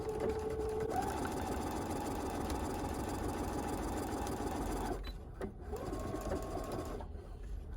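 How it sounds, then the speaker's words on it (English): A sewing machine stitches a fabric face mask with a steady, fast mechanical whir, loud and close, pausing briefly near the end before starting up again. "We're at the machine now, and we're going to go ahead and start sewing about 1/2 inch from the edge of the fabric"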